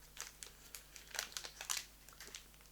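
A Pokémon booster pack wrapper, badly cut and hard to open, is crinkled and torn by hand, giving a run of close, bright crackling bursts with no talk over them.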